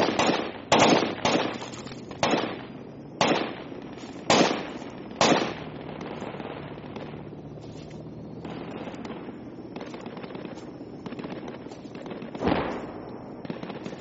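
Gunfire in a Squad video game battle: a run of loud, sharp rifle bursts over the first five seconds, then quieter, more distant shots with one more heavy crack near the end.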